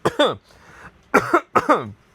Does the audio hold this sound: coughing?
yes